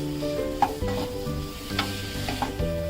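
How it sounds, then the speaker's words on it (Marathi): Raw mango pieces with chilli powder sautéed in a hot pan, a steady sizzle broken by rhythmic scraping stir strokes and small clicks of the spoon, close and moderately loud. "अर्धा मिनिट हे पण चांगलं परतून घेऊया छान"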